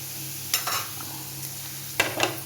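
Bitter gourd and carrot fry in hot oil for a pickle, a steady low sizzle broken by a few sharp stirring scrapes near the start and again toward the end, with no voices.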